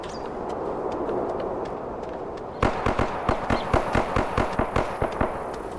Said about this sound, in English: Think he was shooting at a player or a zombie? That sounded like panic firing almost.